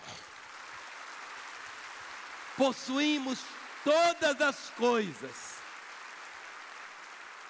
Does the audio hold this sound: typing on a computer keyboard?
no